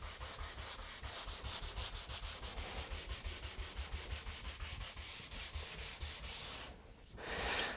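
Wood on a window under restoration is hand-sanded in quick, even back-and-forth strokes, a close rhythmic scratching that keeps a steady pace, breaks off briefly, then returns with one longer rough pass.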